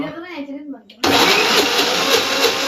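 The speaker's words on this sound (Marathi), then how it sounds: "मिक्स केलेलं आहे मिक्सर मध्ये" After a voice speaks briefly, an electric mixer grinder kneads dough for puran poli. It cuts in abruptly at full volume and holds a loud, steady, close whirring roar to the end.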